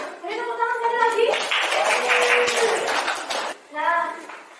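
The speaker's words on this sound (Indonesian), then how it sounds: "Jadi tepuk tangan sekali lagi." Schoolchildren in a classroom clap together in a burst of rhythmic, close-up applause, with children's voices speaking and calling out before and after the clapping.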